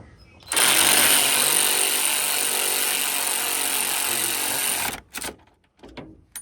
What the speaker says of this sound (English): So these are 13 bolts. I'm going to tighten them.